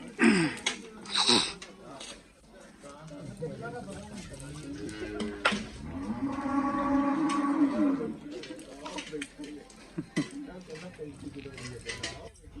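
A Cholistani Jersey-Friesian cross cow gives a few drawn-out moos at moderate distance, with clattering and other farmyard noise around it.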